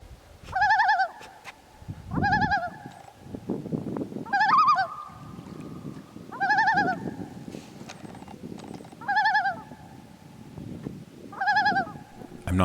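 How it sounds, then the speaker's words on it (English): Common loons on a lake, with baby loons, giving repeated honking, wavering calls in regular bursts about every two seconds, fairly close and loud over low background noise. "I know that this call is way different than the loon call when they were mating."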